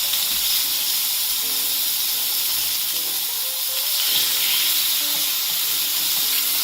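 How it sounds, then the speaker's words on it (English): Pork chops searing in a hot pan give a loud, continuous sizzling hiss that holds steady throughout, with faint small pops and no speech. "This is the sound you always want to hear when you put your meat in the pan."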